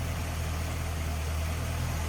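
A 1950 Buick Super Riviera's 263 straight-eight engine idles smoothly, with a close, steady, low rumble that holds evenly throughout.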